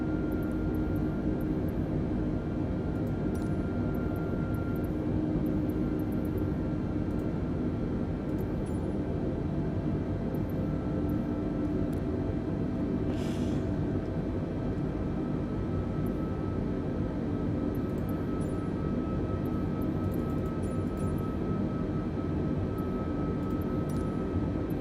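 Steady, broad cabin roar of an Airbus A320neo in cruise inside a flight simulator, a continuous even drone that holds unchanged throughout with no talking.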